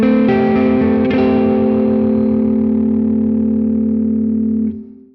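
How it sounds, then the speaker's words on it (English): Sustained chord on a synth-like effected tone with distortion and chorus, voiced in 22-EDO microtonal tuning around a minor third, ringing steadily and loud for about five seconds before cutting off. "And of course, with the minor third, that can sound really nice."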